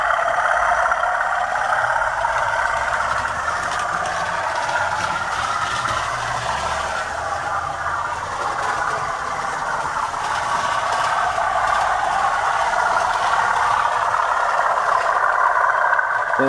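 A Hornby Class 97 model locomotive's TTS sound decoder plays its engine thrashing effect, a continuous, loud, rumbling diesel roar with mechanical rattle that holds steady throughout with no talking.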